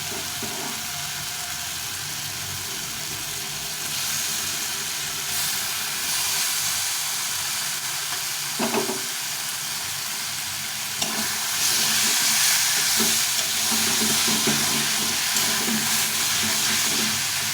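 Boiled bottle gourd fries in masala for lau ghonto with fish head, a loud continuous hiss and sizzle with occasional spoon scrapes and knocks as it is stirred, swelling louder toward the end.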